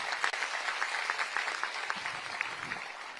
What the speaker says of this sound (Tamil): அவர்களுக்கு நம்ம அனைவரு சார்பாக பாராட்டுகளை கைத்தட்டுகளை தெரிவிப்போம்.